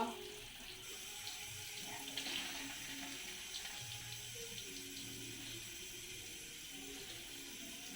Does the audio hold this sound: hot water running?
yes